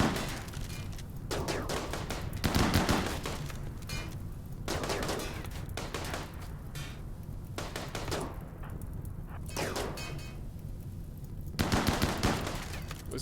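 Gunfire in the colony game RimWorld as fighters shoot at a flaming Inferno turret, with repeated bursts of rapid shots and blasts layered over a steady game background.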